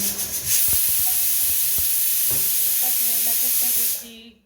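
Loud, steady steam hisses continuously from a pressure cooker with faint whistling tones underneath, then cuts off abruptly near the end.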